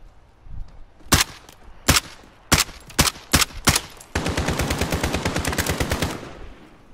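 Gunfire in the video game Modern Warfare: a string of separate sharp shots at uneven intervals, then a sustained rapid automatic burst of about two seconds, loud and close, with no speech.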